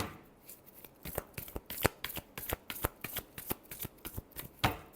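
Tarot cards are shuffled by hand close up, a rapid run of crisp riffling snaps and slaps in an uneven rhythm, with no one talking.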